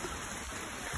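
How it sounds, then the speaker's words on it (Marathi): Heavy rain pours steadily, a dense continuous hiss of drops on surfaces with no break, fairly close and even in loudness throughout the short stretch. "लय पाऊस पडतोय"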